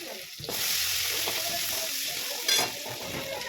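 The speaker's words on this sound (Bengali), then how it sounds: "একটু নেড়ে নিলাম।" Spices, ground cumin, coriander, ginger and salt frying in oil in a pan, a loud steady sizzle that starts abruptly and swells briefly with a stir midway.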